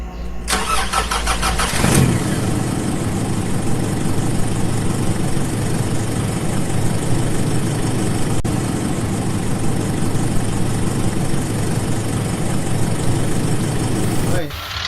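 A car that had trouble starting cranks briefly with a rapid starter whir, then catches and settles into a loud, steady, close idle that runs unbroken for over twelve seconds before the engine cuts off.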